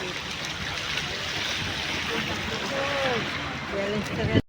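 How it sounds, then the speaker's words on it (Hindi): Arabian Sea waves wash continuously around Haji Ali Dargah in Mumbai, a steady broad rush of water with faint voices in the background. "समुद्र का पानी, समुद्र की लहरें।"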